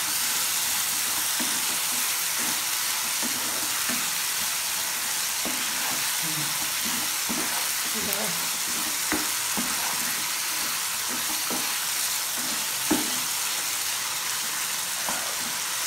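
Mutton with cardamom, cinnamon and cloves fries in a pan for aloo mutton curry, giving a constant loud sizzle broken by repeated scraping stirs and a clank near the end.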